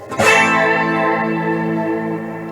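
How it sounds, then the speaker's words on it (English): A single electric guitar chord with flanger rings out with a swirling, sweeping modulation and a wide, washy ambient reverb tail that sustains for a couple of seconds, in a reggae dub style. "if I change my reverb setting to like either a horn reverb or like a special reverb"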